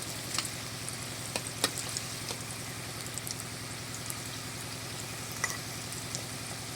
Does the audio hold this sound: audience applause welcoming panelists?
no